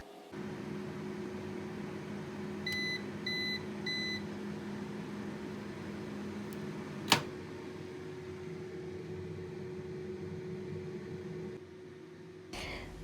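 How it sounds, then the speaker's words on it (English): A microwave hums steadily at low volume; a short run of beeps sounds early, a sharp click follows, then the hum cuts off near the end. "Put it in the microwave oven."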